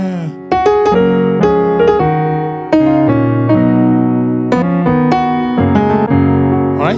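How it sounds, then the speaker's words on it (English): Grand concert piano playing a sequence of full, sustained chords, each struck clearly and left ringing before the next, close and loud with no voices. "the piano, the grand concert piano,"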